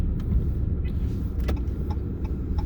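A truck on a street in the Philippines, heard as a steady low engine rumble with road noise throughout, a few faint clicks and knocks over the drone, fairly close and moderately loud.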